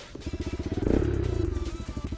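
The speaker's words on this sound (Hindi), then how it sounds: "दिनों के बाद सुपरजीत भाई का बाइक चला रहा हूँ अभी।" A motorcycle being ridden on a road, its engine thumping in a fast, even pulse close to the microphone. The engine swells briefly as it revs partway through, then settles back into a steady rhythm.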